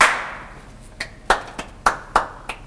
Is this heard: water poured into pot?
no